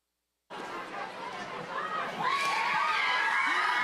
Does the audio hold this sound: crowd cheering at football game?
yes